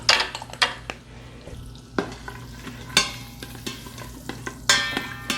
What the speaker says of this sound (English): So in that I'm going to put 6 cloves of minced garlic. Just a quick stir.